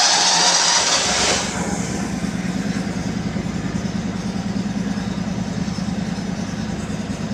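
A Kohler engine starts with a loud burst, then settles into a steady, close idle that runs evenly to the end, with no talking.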